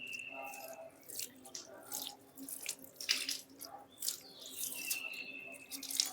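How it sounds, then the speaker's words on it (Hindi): Running tap water splashes and gurgles as someone rinses the mouth and draws water into the nose during ablution (wudu), with intermittent trickling and spattering at close range while birds chirp faintly in the background. "तो इस तरीके से कुल्ली कर ली और नाक में पानी चला लिया।"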